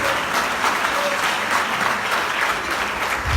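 Sustained applause from an audience gathered at a Seudat Hodaya thanksgiving celebration, a dense, steady wash of clapping that carries on without a break for the full length.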